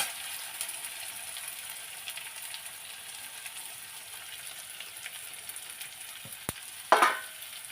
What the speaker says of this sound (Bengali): কালো জিরে দিয়ে কুচানো পেঁয়াজগুলো সব দিয়ে দেবো।